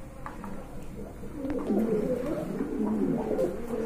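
Soft, repeated cooing from a pair of Indian Bombay pigeons kept at a farm, close and low-pitched, rising slightly in the second half amid faint background noise.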